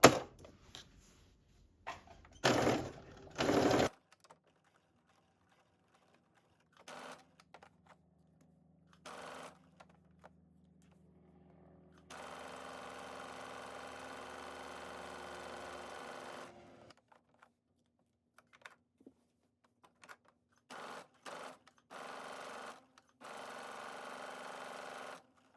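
Sewing machine stitching the inner leg seam of sweatpants with a half-inch seam allowance and backstitching at the hem, short bursts early, then a long steady run midway and several quick bursts near the end.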